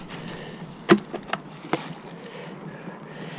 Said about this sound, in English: A lot of bees upstairs here.